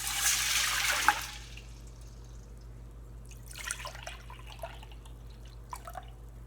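Broth pours from a four-cup measuring cup into a pot as a soup is made, a brief rushing splash in the first second, then scattered drips and trickles.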